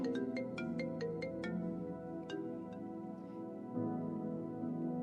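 A mobile phone ringtone goes off during a church sermon, a bright, repeating electronic melody of quick, evenly spaced tones that rings on over a steady room background.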